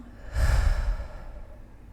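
A person lets out one deep, slow exhale through the nose during a guided breathing exercise, a soft breathy rush that rises quickly and fades away, close and alone.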